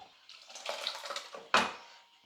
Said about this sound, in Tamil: தேவையான அளவுக்கு வந்து நான் தண்ணி சேர்த்துட்டேன்